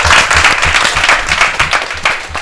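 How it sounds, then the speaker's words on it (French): A live audience at a music event claps loudly and close, dense rapid applause sustained throughout with a thumping beat faintly underneath. "On l'applaudit, on l'applaudit, on l'applaudit."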